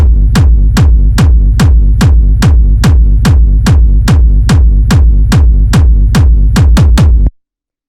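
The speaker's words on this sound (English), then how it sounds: "this is your standard style of hard techno kick" A heavy, punchy techno kick drum thumps in a fast, steady four-on-the-floor pulse, loud and distorted, then stops abruptly.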